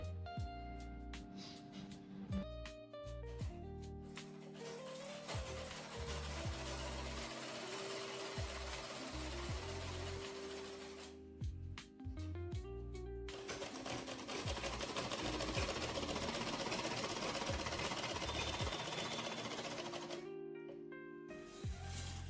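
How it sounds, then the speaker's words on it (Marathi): A sewing machine stitches a fabric border for a square seat cover, its fast mechanical chatter running in several long bursts with short pauses between them, close and steady throughout. "इथपर्यंत शिले मारलेली आहे आता पुढं आणखी राहिलेली मारून घेते"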